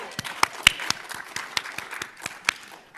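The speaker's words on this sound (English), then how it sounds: "I want to give a big round of applause for Olivia Data for emceeing." Scattered clapping from a small audience at a student teach-in at Harvard, honoring the event's emcee; a thin patter of individual claps with a few sharper hits standing out, fairly quiet and without voices.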